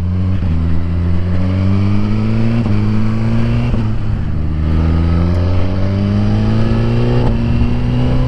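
A Suzuki GSX-R1000R motorcycle engine drones loudly and close after a downshift, its pitch sweeping upward in repeated pulls as it gains revs on a coastal road ride, with no voices.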